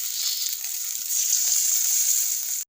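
Ground cumin and coriander paste sizzles in a pan of spices for a Bengali fish and taro dish, a steady close frying hiss that runs unbroken and cuts off abruptly at the end.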